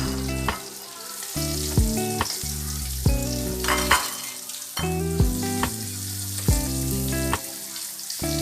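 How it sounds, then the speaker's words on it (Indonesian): Catfish frying in oil in a home kitchen pan, a steady close sizzle and crackle broken by repeated clanks and scrapes of a utensil stirring, with no talk. "ini aku lanjut ngegoreng lagi ya teman-teman. Ini goreng sekalian aja"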